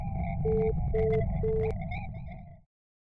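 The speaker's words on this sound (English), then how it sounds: "The audio has a prominent beeping sound. This is Morse code, and it spells out lies." Three evenly spaced Morse code beeps sound from the audio track of BBC Test Card F, steady pure tones over a constant low hum that cuts off abruptly near the end.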